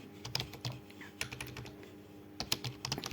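Fingers tap a computer keyboard in quick, irregular bursts of clicks while a command is entered in a terminal on a Windows 11 PC, close and fairly quiet, with no voice over it.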